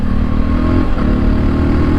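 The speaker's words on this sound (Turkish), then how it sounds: "Abi tek silindire egzoz çıkarınca böyle oluyor işte" A Voge 250RR single-cylinder motorcycle with its exhaust removed revs loudly and close by, a raw, continuous rumbling roar with no voices over it.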